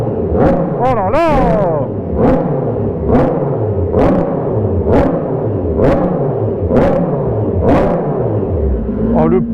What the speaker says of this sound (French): Oh, le pot d'échappement.